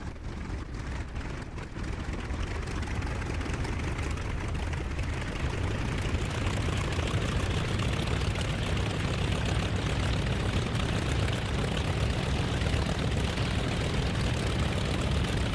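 Propeller aircraft engine starting up in the DCS flight simulator game, a steady loud droning rumble with broadband roar that builds in the first seconds then holds continuous, no voices.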